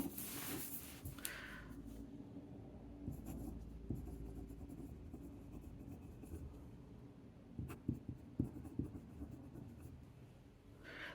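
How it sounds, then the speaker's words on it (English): A fountain pen with a medium steel nib scratching across paper, a soft, continuous scraping with small ticks as strokes begin and end, quiet and close with no talk. "This medium nib writes wonderfully."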